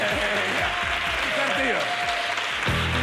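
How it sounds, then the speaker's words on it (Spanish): Studio audience applause on a Canal Sur television show, a dense burst of clapping with a voice talking over it and a rhythmic musical or percussive pattern underneath. "un aplauso o algo, ¿no?"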